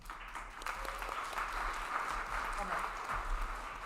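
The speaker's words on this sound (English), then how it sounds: "Another round of applause." An audience at a reception applauds, a soft, distant patter of clapping running steadily under a low hum, with speech mixed in.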